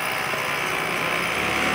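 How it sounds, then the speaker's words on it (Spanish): A power drill whining steadily nearby close to midnight, a loud continuous high-pitched motor drone with no breaks and no voices over it. "Justo ahora tiene que taladrar"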